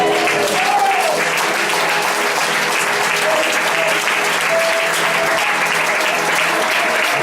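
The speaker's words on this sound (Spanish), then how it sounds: "¿Cuánto le dan un fuerte aplauso al Señor?" Loud, sustained applause from a church congregation during a worship service, a dense continuous roar of clapping, with faint voices or tones rising briefly underneath.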